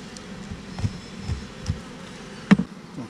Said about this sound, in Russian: Пчелки начали роиться.